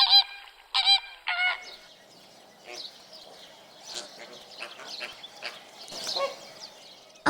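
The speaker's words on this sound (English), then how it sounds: "A flamingo is a big bird with pretty pink feathers, long legs, and a slightly curved long beak." Loud nasal honks from a flamingo ring out in a quick burst at first, followed by softer scattered honking and chatter from several birds.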